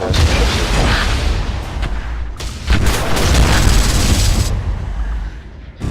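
Repeated heavy explosions from orbital bombardment of a planet in the space strategy game Stardrive, a loud, sustained rumbling barrage with a brief dip midway before the blasts resume.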